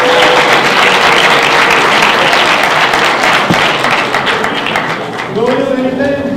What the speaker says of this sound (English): can we have a round of applause to John and Jordan?